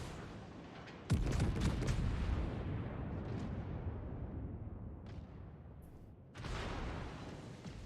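Warship guns fire shells at a destroyer in a naval video game: one loud, close boom with a long rumbling tail, then a second heavy blast near the end.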